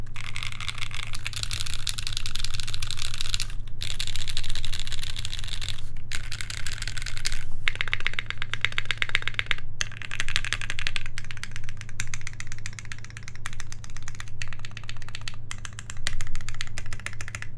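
Lubed Ink mechanical keyboard switches pressed repeatedly on a keyboard build, a dense, continuous rattling clatter of keystrokes with brief pauses between bursts, close and fairly loud over a low hum.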